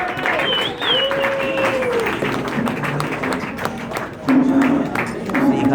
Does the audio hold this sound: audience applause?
yes